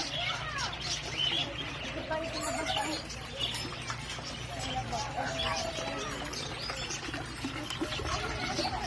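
Birds chirp in a park in Hail, Saudi Arabia, with scattered calls over steady outdoor background noise and a person talking nearby.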